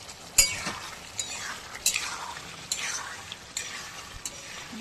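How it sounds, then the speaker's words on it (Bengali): Fish curry being stirred and sautéed in a pan, with soft spoon scrapes at a steady pace over a faint, low sizzle, fairly quiet and with no voices. "এই যে দেখুন সমানে কষিয়ে নিচ্ছি আমি।"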